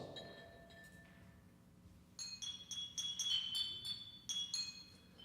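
Glass bottles played as percussion in a student recital: bright, clinking strikes, first a few sparse taps, then a denser rhythmic run of ringing hits, moderately loud with no talking.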